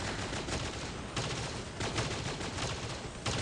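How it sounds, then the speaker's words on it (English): Dense automatic gunfire from a video game, fired in full bursts, rattles loudly and continuously, with fresh volleys starting in quick succession. "As you can see, I'm shooting one guy"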